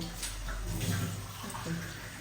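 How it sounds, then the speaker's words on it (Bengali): Water is poured into a pan of fish curry, a fish chutney made with lai (mustard) leaves, as a steady, continuous rush of splashing liquid lasting a couple of seconds with no talk. "পুরো পানি দেব"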